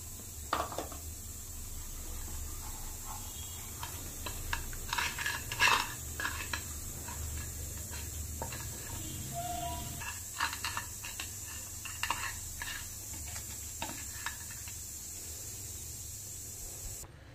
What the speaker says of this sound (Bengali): এবার আমি মাছের মাথাগুলোকে নুন হলুদ দিয়ে মাখিয়ে নেব